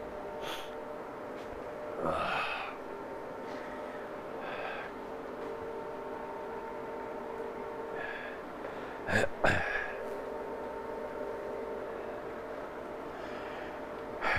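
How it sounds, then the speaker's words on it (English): Someone blows their nose in two bursts, a short honk first and a stronger, louder blow several seconds later, against a steady quiet hum. "I want to blow my nose."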